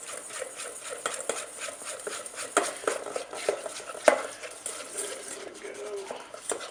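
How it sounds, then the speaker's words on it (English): A small whisk clicks and scrapes rapidly against a bowl while mixing vanilla extract and cream into a glaze for buttermilk biscuits, a busy, close, irregular rattling with faint speech in the background. "We'll take our little whisk and just mix this up into a nice little"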